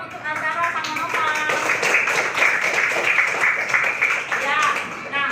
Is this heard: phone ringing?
no